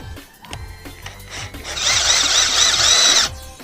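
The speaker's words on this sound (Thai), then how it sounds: "ปรับให้สว่านไม่กระแทกนะครับ เจาะเหล็กให้มัน เป็นแบบหมุน" An electric drill set to plain rotary mode without hammer bores through steel during an outlet installation. A few light knocks come first, then a loud, steady high whine runs for about a second and a half before cutting off.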